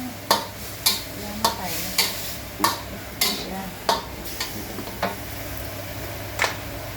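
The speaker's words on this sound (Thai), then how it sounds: "ขั้นตอนนี้เราคั่วหมูให้สุกก่อนครับ" Minced pork dry-fried with a little salt in a pan for Korat-style nam prik mu, giving a steady low sizzle broken by repeated sharp scrapes and stirs, roughly one every half second, close and alone.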